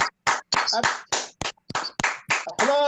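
An audience claps in sharp, irregular, close bursts of a few hands rather than a full ovation, with brief gaps between them and a voice rising near the end.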